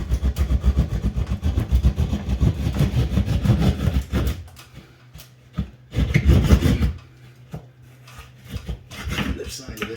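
A saw rasps through a ceiling beside a joist while an opening is cut for a thin recessed light. It starts as a loud continuous back-and-forth grind, then eases into shorter, fainter strokes.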